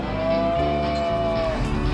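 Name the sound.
calves bellowing while being branded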